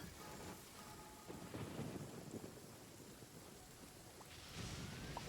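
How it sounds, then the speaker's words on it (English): Thunder rolls with steady rain in a Genshin Impact game scene, a faint, continuous storm wash with a couple of soft rumbling swells and no voices. "Lightning!"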